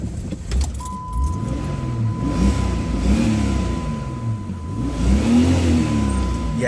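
A Jeep engine rumbles and rises in pitch as it revs while driving, heard from inside the cabin with steady road noise and a faint jingle of keys.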